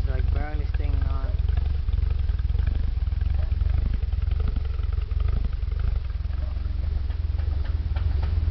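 A Nissan 300ZX twin turbo engine with a knock runs with a loose exhaust. A close, loud low rumble carries a fast, steady clattering tick, and a brief voice is heard near the start.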